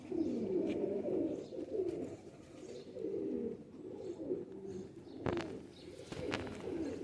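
Sialkoti breed pigeons coo in low, repeated throaty phrases at close range, with a few sharper sounds near the end and no talking.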